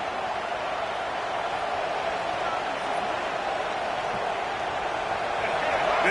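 A football stadium crowd at a Florida State game roars in a steady, loud wash of cheering and noise that swells slightly toward the end, with no distinct voices standing out.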